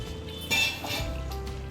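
Metal clinks and a brief clatter as a lid comes off a pan of paneer butter masala, with a few light utensil taps against cookware.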